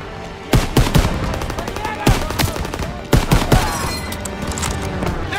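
Heavy World War II gunfire in Call of Duty WW2, with loud clustered bursts and single cracks of suppressive machine-gun fire echoing over a constant battlefield rumble, no clear voices.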